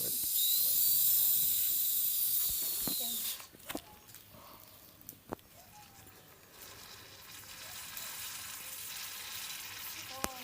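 Homemade elderberry kvass hisses loudly as the bottle is opened, a strong steady fizz for a few seconds that then drops to a softer bubbling crackle with scattered clicks.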